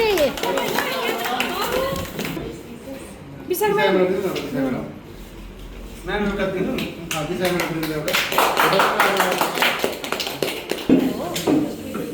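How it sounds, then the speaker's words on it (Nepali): Hands clap together at a farewell gathering for a departing bank manager, the applause rising in bursts over a crowd of voices and children's chatter at close range. "ल ताली बजाउमै"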